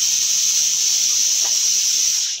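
A pressure cooker releasing steam through its whistle, a loud sustained high hiss that holds steady for the whole stretch before tapering at the very end.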